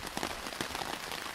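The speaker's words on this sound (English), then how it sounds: "So yeah, it started raining." Steady rain falls during a bike camping trip in the Manistee National Forest, making a dense, close patter on surfaces with no voices.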